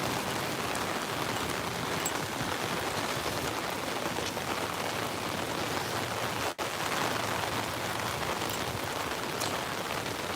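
Steady, dense rain falls on a Tokyo street, a constant broadband hiss close by, unbroken for the whole stretch apart from one brief dip.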